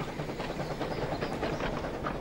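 Steady rumble and rattle of a moving train, with rhythmic clatter of railroad cars running continuously at even loudness and no voices.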